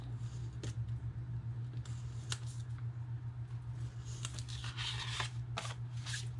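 Scissors snip through tabs on a craft treat, giving a few sharp cuts and rustling handling sounds over a low steady hum, fairly quiet and close.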